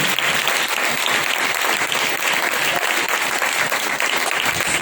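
A church congregation breaks into loud, sustained applause, dense clapping from many hands filling the room steadily for several seconds.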